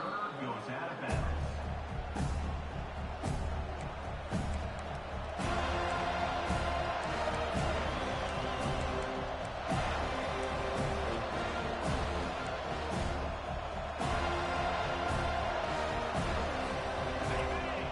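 A football stadium crowd in a Cal at Florida State college game keeps up a steady, dense roar for the whole stretch, with scattered thuds and surges of cheering.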